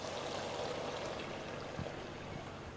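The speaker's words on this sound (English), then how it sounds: "Now I'm going to come in with 1 cup of beef broth." Beef broth is poured into a pot of homemade chili, a steady, soft liquid rush that runs unbroken and fairly quiet for the whole stretch.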